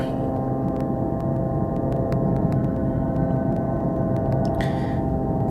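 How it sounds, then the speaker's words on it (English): An airplane flying overhead gives a steady, continuous low droning rumble that holds evenly throughout, with no voices. "Relax, it's the sound of an airplane."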